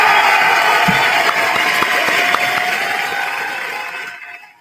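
A studio audience claps and cheers in a steady, dense wash of applause that stays loud for about four seconds before fading out at the end.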